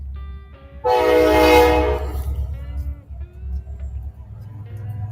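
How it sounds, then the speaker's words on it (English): A loud train horn blares for about a second over the rumble of a passing train, then the rail noise fades to a steady background; the sound arrives through a partly opened window. "here comes the train"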